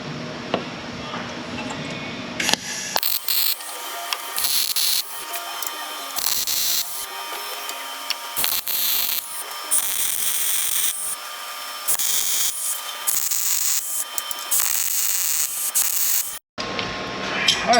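Tack welds going onto the front coilover mounts of a Pontiac Firebird: loud, close bursts of crackling, buzzing arc noise, each a second or two long, separated by short pauses, with no talking.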